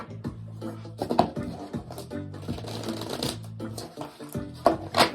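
An oracle card deck is shuffled by hand at close range in quick papery riffles and taps, with a few louder flicks near the end.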